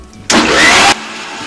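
A kitchen mixer grinder blends amla gooseberries with water in one loud, steady whirring burst of just over half a second that starts and stops abruptly.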